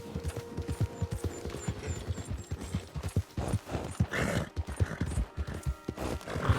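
Horse hooves clip-clop in a steady galloping rhythm in the video game Red Dead Redemption 2, loud and close, with scattered gunfire in the background.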